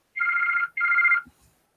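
A telephone rings indoors with two loud, close electronic trilling bursts, each lasting about half a second with a short gap between, then a couple of faint knocks as it stops.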